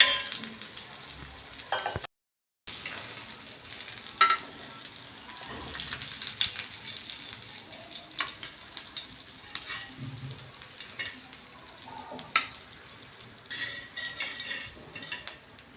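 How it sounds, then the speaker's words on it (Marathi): Surmai fish pieces fry in hot oil with a steady crackling sizzle, joined by occasional stirring and the scrape and clink of a utensil, with one brief silent gap near the start. "आता आपली सुरमई व्यवस्थित अशी फ्राय झालेली आहे"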